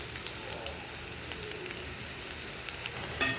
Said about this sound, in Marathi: कांदा छान परतून घ्यायचा आहे ब्राऊन होईपर्यंत.